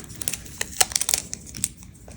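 Tape is pulled from a roll and torn to secure string for a bracelet, giving a quick series of close, crinkly rips and crackles at low volume.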